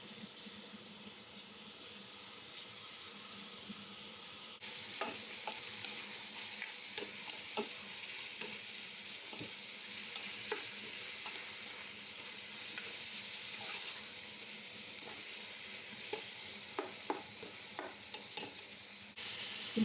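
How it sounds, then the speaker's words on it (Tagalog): Hotdog frying with garlic and shredded chicken in a pan, a soft continuous sizzle with clustered scraping stirs from midway on, fairly quiet and close, with no voices. "Iprito muna natin yung hotdog with the bawang para malasa."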